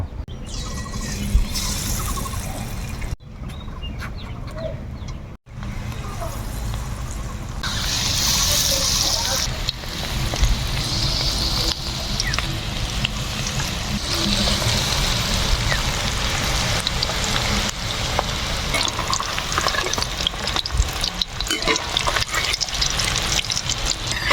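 Chicken kurkure frying in hot oil in a kadai, a steady bubbling sizzle with brief breaks early on, running at moderate loudness throughout.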